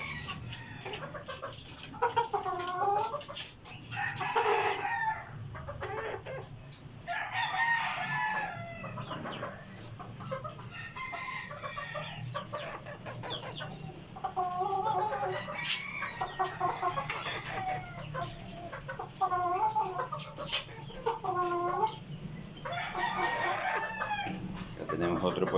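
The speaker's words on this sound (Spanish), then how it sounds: "Tenemos más pollitos de 4 meses y medio." Young chickens about four months old cluck and call repeatedly nearby, with a rooster-like crow among the bursts, steady farmyard noise throughout.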